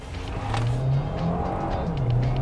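A 2024 Hyundai Tucson Hybrid, 231 horsepower, accelerates hard with slight wheelspin, its engine drone climbing under a steady rush of road and tire noise, close and continuous.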